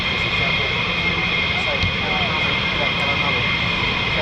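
F-15E Strike Eagle jets taking off at RAF Lakenheath, a steady loud engine roar that holds evenly throughout, with broadband rumble and a faint voice speaking underneath.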